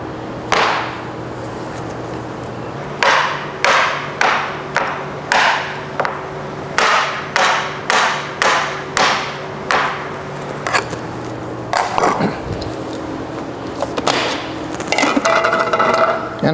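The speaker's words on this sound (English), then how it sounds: "Now I'm going to cut my butter." A knife chops butter into half-inch pieces on a cutting board for pâte sablée tart dough, giving a run of crisp, close knocks in quick bursts with short pauses between groups.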